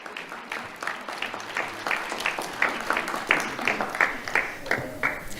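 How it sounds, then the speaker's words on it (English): An audience at a sheriff's office awards ceremony claps in a steady round of applause, moderately loud and sustained, with individual claps distinct in a medium-sized room. "Let's have a round of applause for Leonardo Yanez."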